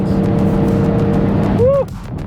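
A Toyota GR Supra on its standard exhaust roars loudly and steadily from close by, ending with a brief rising whine as it accelerates.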